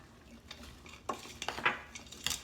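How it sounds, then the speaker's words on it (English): A spoon stirs dry rinsed grain inside an Instant Pot insert, producing faint scraping clinks and a few sharper metallic taps near the mic, quiet with no speech. "I'm going to stir it up"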